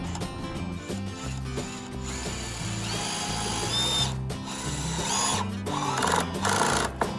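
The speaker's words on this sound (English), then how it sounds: "I pre-drilled, and now I'm just going to drive in with these 2-inch screws" A power drill drives 2-inch screws into pre-drilled soft wood for an outdoor BBQ island build: a continuous, close motor whine with stepped pitch shifts and ratcheting clutch clicks as each screw seats.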